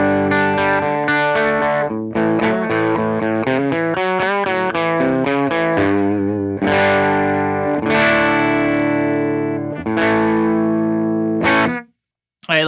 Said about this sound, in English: I have my Les Paul Standard 1999 running into a Dr. Z Carmen Ghia. This is what it sounds like.